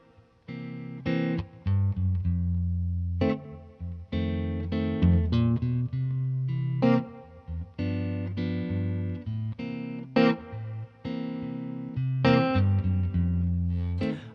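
Electric guitar plays a blues tune with a walking bass line stepping into chords, clean plucked notes and chord stabs in an uneven, phrase-by-phrase rhythm, close and unaccompanied.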